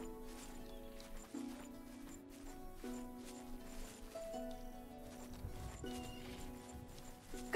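Horses neigh and clip-clop softly in the distance at a stable in the video game Oblivion, amid ambient background music, with occasional hoof steps and quiet rustling.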